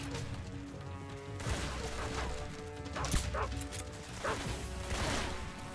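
A dog barks and yips aggressively while attacking in the video game Metal Gear Solid 3, with repeated sharp barks and crashing impacts over a dense game soundscape, moderately loud.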